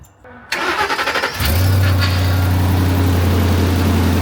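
A 2008 Ford F-350 truck engine cranks with a rapid rhythmic churn for about a second, then catches and settles into a loud, steady, close idle.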